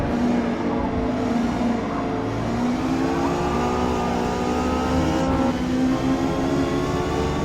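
Honda S2000 race car engine in Forza Motorsport, a sustained high-revving wail pulling hard on the top end with steady rising harmonics, one brief shift dip, loud and close with no talk.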